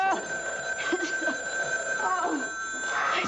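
A telephone bell rings steadily over a woman calling out and laughing, the ring carrying through the whole stretch in a domestic scene.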